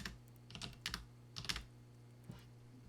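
Quiet clicks of a computer keyboard as someone types a few scattered keystrokes in small bursts, with pauses between, close but faint over a low room hum.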